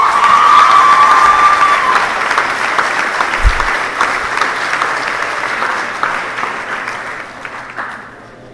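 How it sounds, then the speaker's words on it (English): An audience at a school eighth-grade awards ceremony applauds an award recipient. Loud, dense clapping with a few cheers starts strong and gradually tapers over about eight seconds. "Please give an applause to Catherine Noonan."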